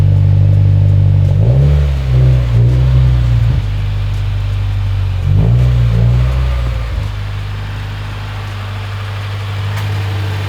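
A Subaru WRX engine hums at a low steady idle close by as the car backs out, with two brief rises in revs before it settles back to an even drone.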